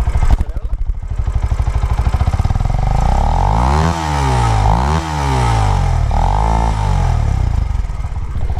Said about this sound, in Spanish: Vamos a hacer una grabación del sonido del escape.